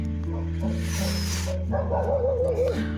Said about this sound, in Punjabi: ਕੁੱਤੇ ਪਤਾ ਨਹੀਂ ਕਾਤੋਂ ਭੌਂਕੀ ਜਾਂਦੇ ਨੇ ਰਾਹ ਤੇ